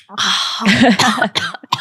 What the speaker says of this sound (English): Oh my God, not the cough